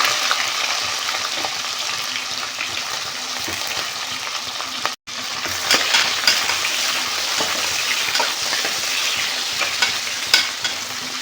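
Onions and green chilies fry in hot oil in a pan while being stirred, a dense continuous sizzle with scraping stirs, loud and close, briefly cut by a gap midway.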